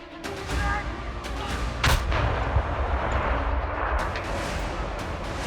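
Artillery fires after a combat firing command: one sharp heavy report near the two-second mark, then a loud continuous rumbling roar that carries on to the end, with no speech.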